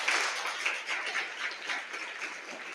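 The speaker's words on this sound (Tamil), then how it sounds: "நல்லா ஒரு கை தட்டுங்க பாப்போம்." Seminar audience clapping together in a hall, a dense, steady wash of applause that holds evenly throughout without pauses.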